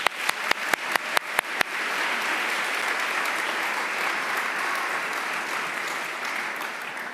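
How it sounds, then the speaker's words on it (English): At a university business school awards ceremony, a few single loud claps start off, then a crowd breaks into sustained, steady applause that carries on evenly. "Please give yourselves a round of applause."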